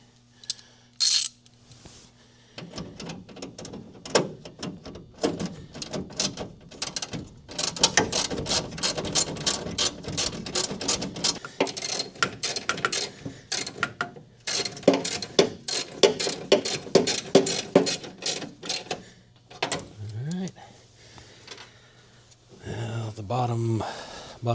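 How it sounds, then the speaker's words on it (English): An 8mm socket ratchet turning bolts on the heater box of a 1971 BMW 2002, giving long runs of rapid, close metallic clicking with brief pauses between strokes and a few clanks near the end. "got my 8mm socket"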